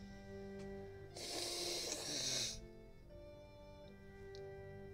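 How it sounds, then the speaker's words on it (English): A single loud, breathy nose blow lasting over a second, standing out against soft background music. "I'm gonna blow my nose"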